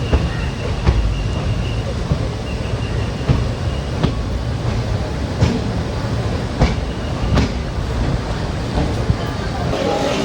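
A Coimbatore–Shoranur passenger train runs on rails near Shoranur Junction, giving a steady loud rumble with periodic clacks of wheels over rail joints throughout.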